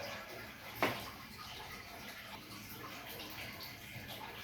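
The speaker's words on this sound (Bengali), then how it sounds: "খুন্তিটা ধুয়ে নিলেই হবে আমি ধুয়ে দিচ্ছি" Running tap water washing a metal spatula (khunti) in a home kitchen, a steady faint splashing stream with one brief louder clatter near the start.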